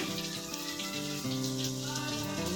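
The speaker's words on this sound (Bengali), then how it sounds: "পেঁয়াজ কুচিগুলো খুব সুন্দর করে ভেজে নেব" Chopped onions frying in a pan for a katla fish and mankochu curry, a steady close sizzle and crackle filling the whole stretch without pause.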